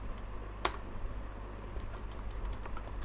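Java code typed on a computer keyboard, a few sparse key taps with one sharper click standing out over a steady low electrical hum.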